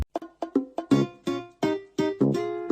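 Post office music from Animal Crossing: New Leaf, a short playful sequence of plucky, bell-like notes in an even bouncy rhythm, clear and unaccompanied by voices.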